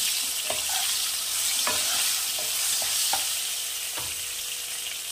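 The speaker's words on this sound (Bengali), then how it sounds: "একটু হালকা লাল করে ভেজে এটাকে আমি তুলে রাখবো" Potato pieces coated with turmeric and salt fry in hot oil for a prawn curry, giving a steady hiss with a few sharp spatula scrapes and clinks spaced through it, close and fairly quiet, with no voices.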